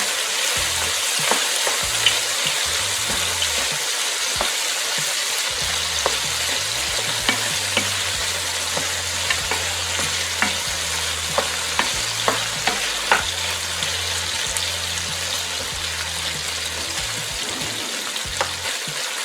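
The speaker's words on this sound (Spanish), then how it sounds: "Lo dejamos en 2 minutos para que el ajo se dore muy bien." Ground garlic fries in hot oil in a pan with a constant close sizzle, while a spoon scrapes and taps against the pan as it is stirred.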